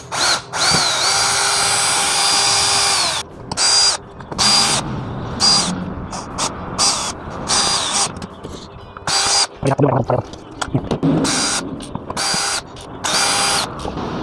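A cordless battery drill runs repeatedly, long whines and short stop-start bursts with ratcheting clicks as eight screws are backed out of another cordless drill's casing under repair, with occasional quiet talk.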